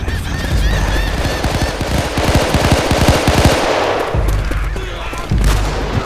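Automatic AK rifle fire in a realism-style video game: loud, close bursts of rapid shots rattling in quick rhythm, with pauses between bursts and heavy low booms underneath.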